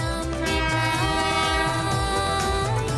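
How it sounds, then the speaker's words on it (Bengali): A train arriving with a loud, sustained horn blast over the heavy rumble of rolling wagons and a faint rhythmic clatter. "ট্রেন এসে গেল তো"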